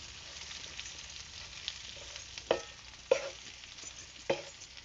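Stuffed bitter gourds sautéed with masala in a pan, a low, quiet sizzle with three distinct scraping stirs spaced about a second apart, close by and without speech.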